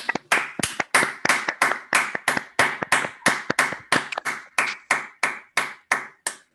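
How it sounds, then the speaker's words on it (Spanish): Steady, evenly spaced hand clapping, roughly seventeen crisp claps close to the microphone, applauding a presenter after an academic talk on stochastic differential equations. "le podemos dar un aplauso a nuestra expositora por su muy interesante charla"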